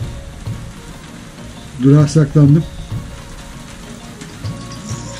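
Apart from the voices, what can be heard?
rain falling, heard from a bus shelter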